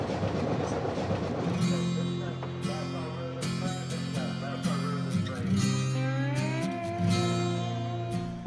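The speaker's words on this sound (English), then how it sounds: "This might be Brian, our last time on this train" A train rolls along the rails with a continuous rumbling drone, steady clattering and metallic squeals, heard up close from on board.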